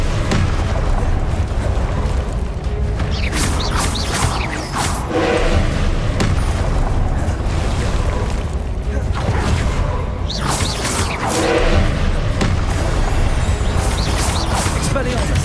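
Incendio fire spell cast in Hogwarts Legacy combat, loud whooshing bursts and booming impacts over dense, continuous battle noise and music.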